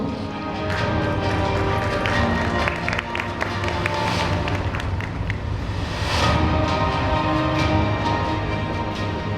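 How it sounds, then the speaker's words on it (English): Dense, sustained applause from a large audience fills the room at a banking summit and awards presentation, loud and continuous throughout, with a brief dip and swell partway through. "A huge round of applause for him as well"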